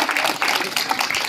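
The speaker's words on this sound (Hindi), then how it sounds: "तो जोड़ा ताली बजा करके" A village crowd at a welcome gathering in Mahendragarh claps to honour the local sarpanch, with dense, steady applause up close through the short burst.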